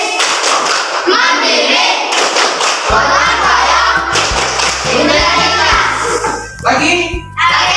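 Schoolchildren chant the Tepuk PPK clapping routine in a classroom, their voices loud and close, with rhythmic claps and a heavy low thumping pattern that joins partway through.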